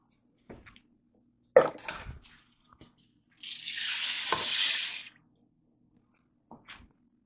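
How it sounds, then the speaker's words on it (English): Stock and rice are stirred in a Ninja Foodi pot: a few knocks and taps, then a sustained scraping swish lasting nearly two seconds, and a last light tap. "I'm going to stir this up before I put the pressure lid on."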